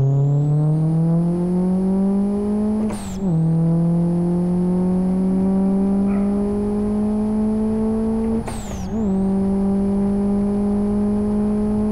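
A Monza Turbo car engine in Live for Speed, a steady loud drone slowly climbing in pitch, broken twice by brief gear-shift dips before the revs pick up again, with no talk over it.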